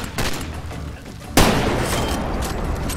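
Explosions and gunfire crackle through a Far Cry 2 firefight, a sudden loud blast midway followed by sustained rumbling booms and scattered shots, with someone talking underneath.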